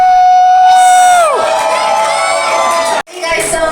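Concert crowd at Oil Club in Shenzhen, China cheering and shouting loudly after a set, with high whoops and sustained roar, a brief drop near the end, then the crowd noise resumes.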